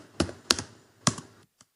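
A few sharp key taps on a computer keyboard while building a web page in HTML, three main clusters of clicks close by with a faint final tap after a short pause.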